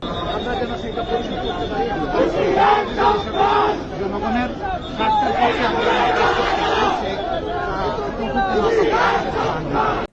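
A crowd of BNP activists and members of the public chants political slogans at the Shaheed Minar on 21 February, rhythmic shouted phrases rising and falling over a loud, close babble of voices.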